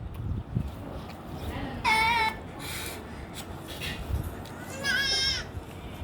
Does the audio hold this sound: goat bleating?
yes